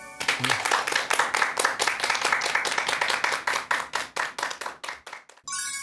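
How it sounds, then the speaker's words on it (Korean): Audience applause welcoming Professor Kim Jeong-ho, a psychology professor, onto the stage for a lecture. It is a steady run of dense, close hand claps that thins out toward the end and stops abruptly. "큰 박수 부탁드립니다"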